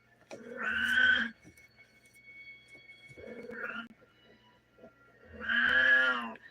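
A cat meows twice at moderate loudness, each call drawn out and tonal, with a brief softer sound between them and quiet gaps in between.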